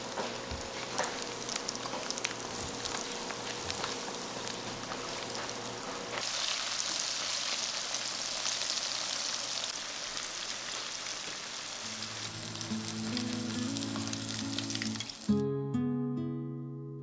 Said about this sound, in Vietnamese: Chiên đến khi nào chả giò vàng giòn như thế này thì mình vớt ra để cho ráo dầu trên giấy thấm dầu nha